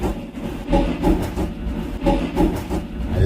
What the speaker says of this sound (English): Comment below if that doesn't sound like a train going down the track